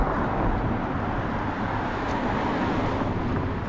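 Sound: car traffic passing by on a street

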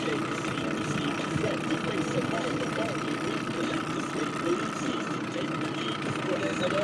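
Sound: boat outboard motor idling

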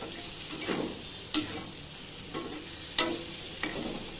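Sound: stirring spices and salt into prawns in a pan

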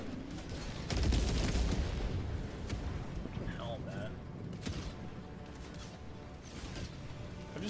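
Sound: mortar fire in the video game Payday 3

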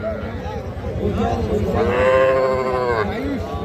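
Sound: Sahiwal breed heifer calf mooing at cattle market

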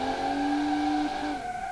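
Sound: tires squealing under hard braking of Audi RS6 in BeamNG video game

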